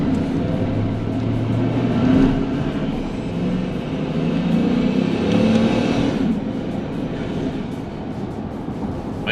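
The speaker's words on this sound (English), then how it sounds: "Well, it's got the Procharger whine to it." A Procharger-supercharged Silverado truck engine runs with a continuous loud drone and a rising-and-falling whine as it revs, steady throughout with no voices.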